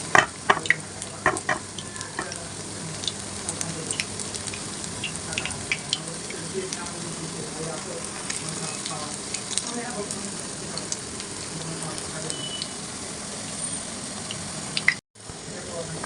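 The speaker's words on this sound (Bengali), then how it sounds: "এই পেঁয়াজটাকে ভেজে নেব ফ্রাই প্যানে" Onions sizzle steadily in a hot frying pan for a long stretch, with occasional stirring clinks and scrapes close up, no talking.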